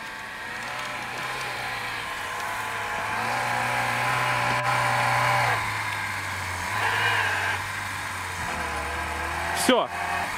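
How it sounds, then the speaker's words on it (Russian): A Lada Niva SUV pushes through a deep rut off-road, its engine droning steadily and straining under load for several seconds before a sharp knock near the end. "Пробиваем колею Нивой. Посмотрим, куда заедет Нива."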